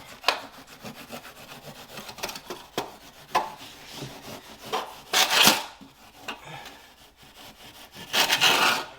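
A Gouin hand saw rasps back and forth through wood flush against a wall in uneven strokes, with louder bursts of sawing near the end and no talking.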